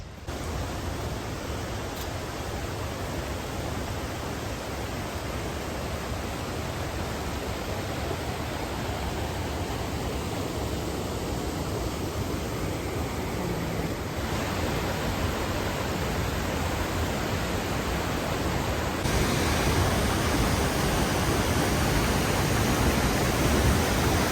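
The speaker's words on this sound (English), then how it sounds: "see the waterfalls" Peguche waterfall in Otavalo roars as a steady, broad hiss of falling water, continuous and fairly loud throughout with no talk.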